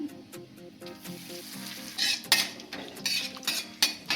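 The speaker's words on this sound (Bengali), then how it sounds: "ফোড়নে দিচ্ছি আমি শুকনো লঙ্কা সর্ষে দিয়ে দিচ্ছি আমি একটু কারি পাতা দিয়ে দিচ্ছি আমি একটু হিং" Dried red chillies, mustard seeds, curry leaves and asafoetida are tempered in hot oil for Bihari kadhi. A soft sizzle runs beneath repeated sharp clinks and scrapes of a metal spoon against the pan, with no one talking.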